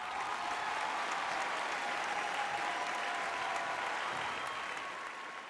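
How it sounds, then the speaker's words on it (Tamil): Steady, sustained applause from a large television singing-show audience, filling the space evenly and fading slightly at the end. "விவேக் சாருக்காக மீண்டும் ஒரு பெரிய கைத்தட்டல்."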